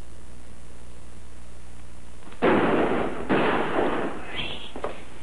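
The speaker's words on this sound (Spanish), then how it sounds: "cuidado con los balazos, porque don Cayetano y el otro tiran a todos lados" Gunshots crack in a scene from a 1948 Mexican comedy film: two loud bursts of fire, one after the other, with a fainter shot following, standing out against a quiet background.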